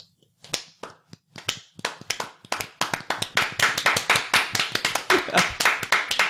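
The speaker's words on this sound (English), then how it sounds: "Slow clap. Golf clap for me." Hand clapping with a slow, sparse start that builds into steady, rapid applause, with voices mixed in along the way.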